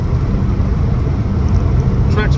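A 1961 Jaguar Mark II 2.4 with manual overdrive gearbox runs steadily while driving, its engine and road noise forming a continuous, loud, even drone throughout.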